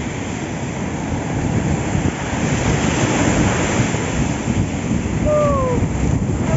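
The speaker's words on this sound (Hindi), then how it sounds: "बहुत तेज तेज लहरें उठ रही भाई समुद्र की।" Heavy sea surf roars continuously at Puri beach, loud and close, with wind buffeting the microphone and light rain; a couple of faint bird calls appear near the end.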